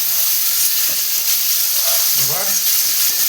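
Cauliflower pieces dusted with turmeric frying in hot oil, a dense, constant sizzle close up with faint clinks of a utensil near the end.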